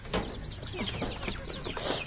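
Young chicks peep and cluck close by near a homemade chicken cage, a quick string of high chirps and short calls over faint background noise.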